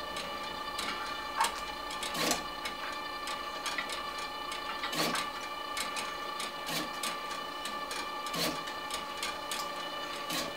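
A LAB500 label dispenser machine labelling price tags, cardboard and paper products: a steady mechanical whir with repeated clicking, ticking dispense strokes at an irregular, roughly regular pace, close and moderately loud, with no talk.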